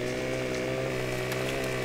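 A chainsaw in the Farming Simulator 15 video game drones steadily as it cuts branches from a felled tree, a constant buzzing engine tone with no talking over it.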